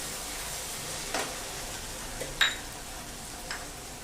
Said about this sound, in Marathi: पण पहिल्यांदा हा कांदा छान परतून घ्यायचा आहे